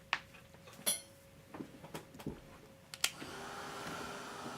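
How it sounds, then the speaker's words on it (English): A blow dryer switches on after several sharp clicks and taps, then blows a steady, soft whoosh while drying a watercolor painting. "Let me put the blow dryer on."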